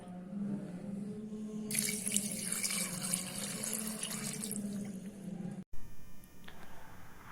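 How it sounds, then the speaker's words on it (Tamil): Water pours steadily for a few seconds into a pressure cooker holding mutton and turmeric, a close splashing rush that stops abruptly, followed by a short clatter. "மட்டன் மூழ்குற அளவுக்கு மட்டும் தண்ணி ஊத்திக்கோங்க"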